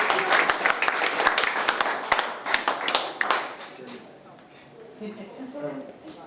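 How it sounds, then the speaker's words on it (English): An open mic audience claps for a speaker with sharp, scattered hand claps that thin out, and a voice starts talking as the applause dies away. "Let's give a round of applause to Megwin."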